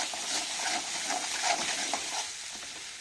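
Garam masala being stirred into a frying onion-tomato masala for matar paneer, with a steady soft sizzle and scraping stir strokes in a pan, close and continuous with no talking.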